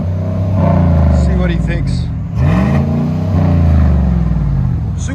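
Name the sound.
2019 GMC Sierra 5.3L V8 with Flowmaster Super 10 exhaust driving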